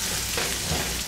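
Chopped garlic hits frying onion in a pan, giving a loud, dense, steady sizzle throughout with no talking.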